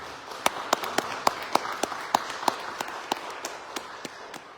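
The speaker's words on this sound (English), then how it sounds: "Let's give her another round of applause, please." At a workforce and elections event, a small audience gives sparse applause: sharp individual claps land at a steady, fairly even pace over a quiet room, with no voices heard.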